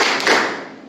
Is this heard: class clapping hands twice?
yes